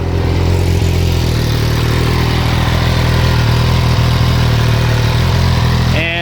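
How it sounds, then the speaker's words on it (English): An MV Agusta F3 sport motorcycle engine, exhaust baffle removed, idles steadily at close range, a rough, raspy low rumble holding even throughout, with a brief higher whine near the end. "So a little bit louder, a little bit raspier."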